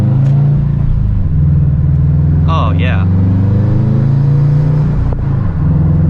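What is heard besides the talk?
2009 Subaru WRX driving and accelerating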